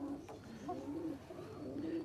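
Sialkoti and Kasoori breeder pigeons, including a golden pigeon with vermilion eyelids, coo softly in low, rolling phrases that repeat steadily against a quiet background.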